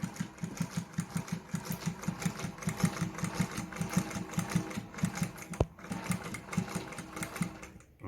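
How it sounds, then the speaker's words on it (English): Phoenix 228 sewing machine stitching through four layers of denim, a close, steady rapid needle thump and motor hum running continuously with a brief hitch near the end. "I'll just sew like 4 layers of denim right now."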